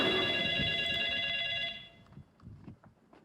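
A telephone rings indoors with a bright, steady electronic ringtone for about a second and a half, then cuts off, leaving faint rustling and small movements in a quiet room.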